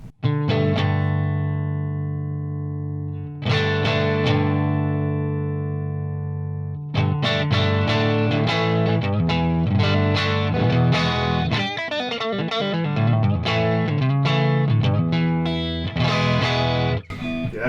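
Electric guitar played through a Marshall Vintage Modern amp with mild overdrive breakup, strummed chords ringing out and sustaining, then a busier run of notes and chords, loud and clear with no talk.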